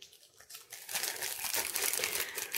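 Crinkly plastic shaker film bought from AliExpress is handled up close, giving a loud, continuous crackling and rustling that builds after a quieter start, with no voice over it.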